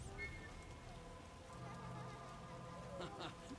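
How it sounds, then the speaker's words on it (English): Steady rain falls across an outdoor scene in The Witcher video game, a dense, even hiss with some low rumble and faint tonal game sounds layered over it, continuous throughout. "Oh, when will this rain stop?"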